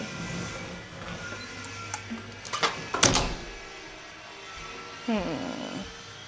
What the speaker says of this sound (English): I'm gonna close the door